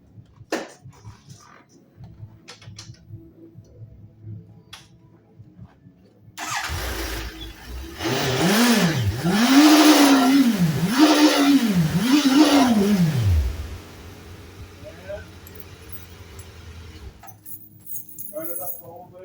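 A Suzuki Bandit 1250 motorcycle engine starts and revs repeatedly, four rising and falling swells after the start, then settles to a steady idle; keys jangle and a person talks quietly before and after.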